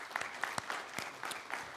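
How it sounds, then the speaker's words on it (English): A conference audience applauds, a faint, distant patter of many hands clapping briefly and evenly. "so I would like to applaud them here."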